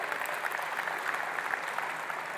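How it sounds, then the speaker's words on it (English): Audience applause at a Microsoft Azure tech presentation, a continuous even patter of clapping from many people that holds steady and sounds somewhat distant. "You can clap for that."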